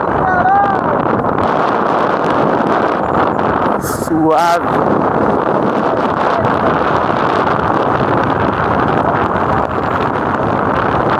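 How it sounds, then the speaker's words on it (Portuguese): Riding pillion on a 125cc motorcycle, heavy wind roar buffets the microphone in a constant loud rush that buries the engine, with a brief voice and short squeaky tones partway through. "Fazer uma andando de moto agora. De garupa."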